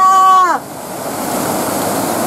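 Water rushes steadily over the Kejudevi Dam weir on the Pawna River near Pune, a broad continuous roar that takes over after a brief tonal sound at the start.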